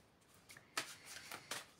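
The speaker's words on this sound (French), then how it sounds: "je vais essayer de rajouter une carte ici" A card slides into place in a tarot-style spread, several faint close papery flicks and taps, quiet and brief with no talking.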